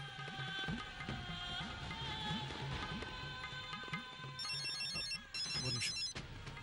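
A telephone rings after a call is placed, its electronic ringtone trilling in repeated bursts that grow louder near the end, over a busy background of murmuring voices and bustle at an indoor gathering.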